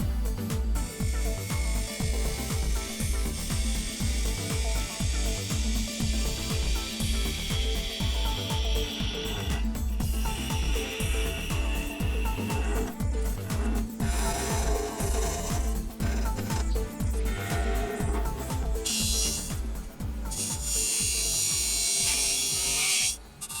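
A woodturning lathe cuts a tenon on a lidded box blank, giving a steady, loud, continuous grinding hum with a rasping scrape of the tool against the spinning wood, close up and unbroken for the whole stretch.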